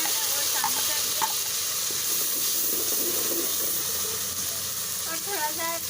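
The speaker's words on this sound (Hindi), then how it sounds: "इससे पहले कि और हो जाए, हम इसमें ये जो अदरक लहसुन का पेस्ट है वो शामिल कर दिया" Ginger garlic paste sizzles in a pan of browned onions for a spinach curry, a steady bright frying hiss with occasional stirring scrapes and clinks throughout.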